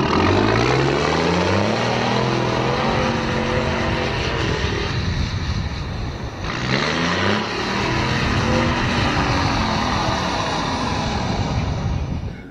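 A Hummer ploughing through thick snow, its engine droning loud and steady throughout with a revving surge around the middle, no talking.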